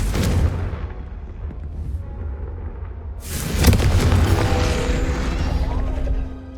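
A Confringo blasting spell explodes in Hogwarts Legacy, a sudden loud boom with crashing debris that follows a quieter stretch of low rumbling and mechanical clatter, then rings out and slowly fades.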